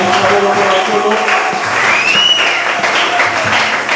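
Church congregation at a French-language sermon applauding, loud dense clapping with some cheering and a whistle-like tone over it.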